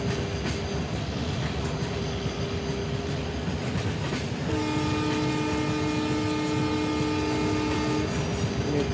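Passenger express train slowly departing Jalpaiguri Road station in a train simulator game, steady rolling rumble with a sustained multi-tone horn sounding partway through, no talk.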